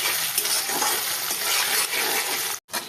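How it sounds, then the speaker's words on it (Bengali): Chicken curry paste with cardamom, cinnamon and cloves frying in a pan, a steady close hiss of sizzling oil with soft scraping as the spices are stirred, cutting off briefly near the end. "একটু নেড়ে নিচ্ছি"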